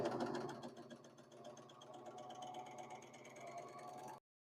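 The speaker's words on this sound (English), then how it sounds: "stick the fabric under again, and put it down, and start sewing" A serger sewing machine stitches fabric with a fast, even mechanical chatter that runs steadily at close range, then cuts off abruptly near the end.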